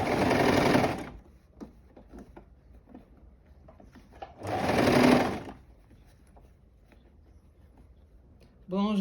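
A sewing machine stitching a fabric scrunchie, with two short bursts of fast, loud whirring separated by quiet handling clicks and a rustle of fabric.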